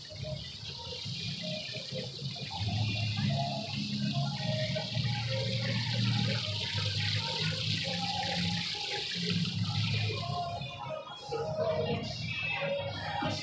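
Water pours steadily from an outdoor fountain at the Pasadena Playhouse, a continuous rushing splash close by, with people talking softly over it.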